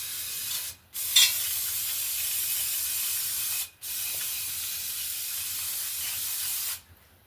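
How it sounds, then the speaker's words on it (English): Aerosol can of brake cleaner sprayed onto a 2003 Mitsubishi Galant in three long steady hissing bursts, each a few seconds, close and fairly loud, separated by brief pauses. "I take my can of brake clean"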